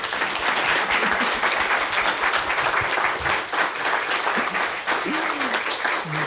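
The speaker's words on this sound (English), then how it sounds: "Can we please give them a round of applause?" Audience applause for performers at a live concert, a broad steady wash of clapping sustained throughout at moderate distance, with a few faint voices rising near the end.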